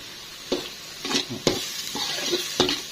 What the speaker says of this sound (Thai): เราจะผัดให้สุกนะผัดให้สุกเลย